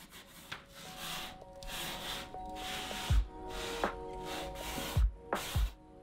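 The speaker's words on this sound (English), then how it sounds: "So now we're just gonna sand it real quick before we add some color on there." A white stone shelf surface sanded by hand with a series of long rubbing strokes, each a soft rasping sweep at close range, repeated steadily with faint knocks between passes and no talking.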